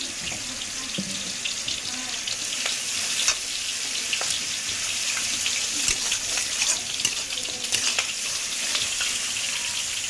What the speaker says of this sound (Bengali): এবার সুন্দর করে পেঁয়াজটাকে আমি কষিয়ে নেব।